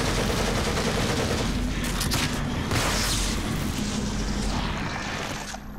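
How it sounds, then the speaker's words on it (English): An enemy's submachine gun firing in The Evil Within, a dense, continuous rattle of loud close shots that thins slightly toward the end. "It's got a submachine gun."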